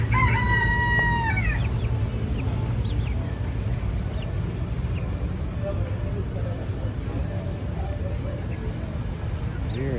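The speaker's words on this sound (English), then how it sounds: "What kind of chickens are these?" A rooster crows loudly near the start amid hens clucking, with steady low background rumble continuing throughout, near a boat.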